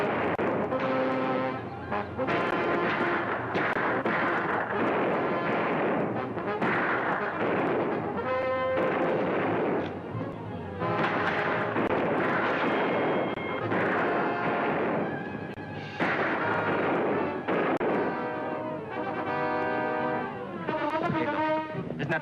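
Rifle gunfire rings out during a bushwhacker attack in an old Western television episode, dense repeated shots and booming reports layered with music and commotion, continuous and loud throughout.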